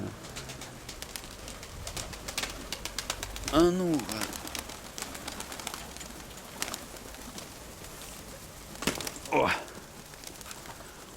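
Pigeons coo in short bursts, one clear call near the start and another a few seconds later, over outdoor background noise with someone speaking briefly.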